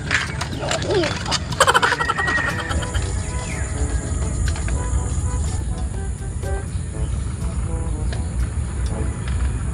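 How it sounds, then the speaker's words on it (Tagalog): Many birds chirp and call beside rice paddies at six in the morning, close, busy tweets scattered over a steady low rumble, with a thin high insect-like whine entering partway through. "Kaka-relax po, daming ibon."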